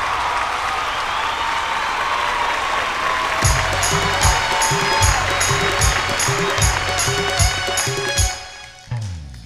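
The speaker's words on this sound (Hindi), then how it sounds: "जोरदार ताली से आज स्वागत करी ज्योति साहू की।" Audience applause at a Holi special episode of a Bhojpuri singing reality show, welcoming singer Jyoti Sahu on stage; a steady crowd clapping is joined midway by a rhythmic music beat, then cuts off near the end.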